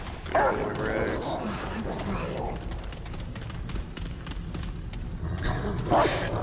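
A dog companion named Rags barks in the video game Remnant: From the Ashes, with a few yips near the start and again near the end. A steady game soundscape runs underneath throughout.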